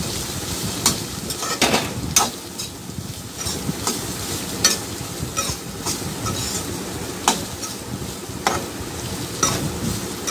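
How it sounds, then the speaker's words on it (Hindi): Two onions frying in a little oil in a pan, a steady sizzle with frequent sharp clicks of stirring against the pan, fairly close and without talk. "दो प्याज डालें, उनको बस फ्राई कर लेंगे,"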